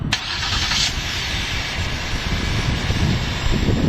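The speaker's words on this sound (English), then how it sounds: "let's go ahead and start the engine" A 2011 Ford Explorer Limited engine starts with a quick cranking burst at the opening, then settles into a steady, fairly loud idle hum heard up close, with no talk over it.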